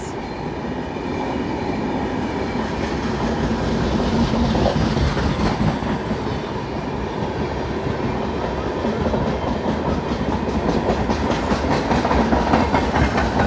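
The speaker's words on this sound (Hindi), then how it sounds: "ये जो ट्रेन आ रही है वो आ रही है लोंडा जंक्शन की साइड से" The Tirupati Kolhapur Haripriya Express, approaching from the Londa Junction side, gives a continuous heavy rumble with dense clickety-clack of wheels that stays loud and steady throughout.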